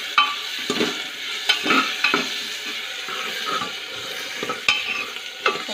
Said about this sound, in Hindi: टमाटर डालने से पहले इसको अच्छे से भून लेंगे सूखा झींगा डाल के